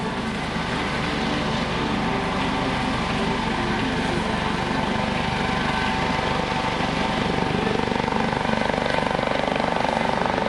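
A Coast Guard search and rescue helicopter hovers close overhead during a hoist demonstration at the 2017 Flying W Airshow, a loud continuous rotor roar and whine throughout, with an announcer talking over it.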